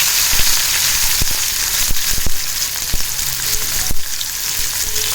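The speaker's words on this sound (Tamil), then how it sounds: "எண்ணெய் காய்ஞ்சதுக்கப்புறம் நம்ம வெங்காயத்தை போட்டு வதக்கலாம்" Small onions sautéing in hot oil in a pan for a dried anchovy thokku give off a loud, steady sizzle with scattered sharp crackles and pops, close up and without speech.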